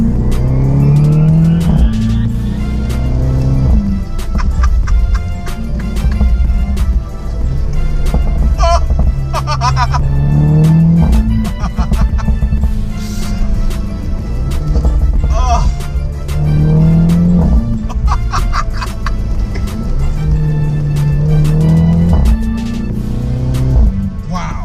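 Mini Cooper S Convertible fitted with a Remus catback exhaust revs hard toward 6,500 RPM in repeated loud bursts, the engine note climbing and falling several times, up close and continuous, with faint talk underneath.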